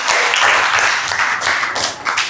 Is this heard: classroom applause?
yes